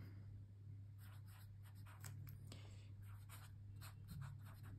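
Faint scratching strokes of a Kaweco Collection Cyan fountain pen nib moving across paper, in short irregular bursts over a quiet steady hum.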